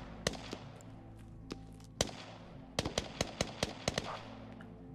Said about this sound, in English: I can hear him firing his AK.